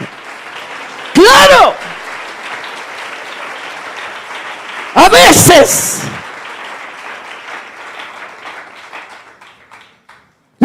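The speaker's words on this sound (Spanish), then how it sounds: "Denle ese aplauso al Señor." A church congregation breaks into two short, loud bursts of applause a few seconds apart, while a preacher speaks in Spanish before, between and after them.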